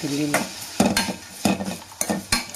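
Stirring and sautéing with salt and chili in a pan: a spoon scrapes and knocks against the pan in repeated strokes over a bright steady sizzle, close and fairly loud, no talk.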